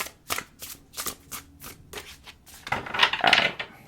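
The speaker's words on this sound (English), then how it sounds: "I'm going to shuffle it 5 times." A tarot card deck is riffled and shuffled by hand in a string of quick, crisp bursts, ending in a louder, longer flurry of cards close by.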